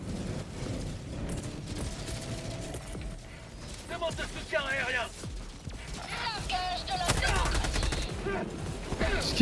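Sustained automatic gunfire and crashing blasts fill a Helldivers 2 video game battle, growing louder toward the end while players talk over the shooting.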